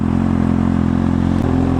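A Kawasaki ZX6R sport motorcycle idles nearby, a steady low throbbing engine rumble with a slight rise in pitch near the end, loud and close with no talk.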